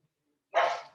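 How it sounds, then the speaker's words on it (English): A single short dog bark rings out after near silence, moderately loud and a little distant, outdoors in Tepatitlán, Jalisco, Mexico. "You're gonna hear the dogs barking in the background."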